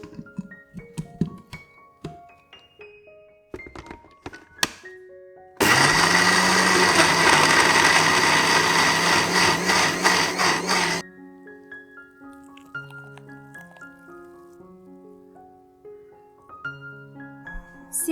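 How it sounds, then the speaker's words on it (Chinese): A kitchen blender whirs steadily for about five seconds, grinding red chilies, cashews, sugar and salt into a paste. The loud, even motor drone runs between softer musical passages. "放入搅拌器里搅打至泥状"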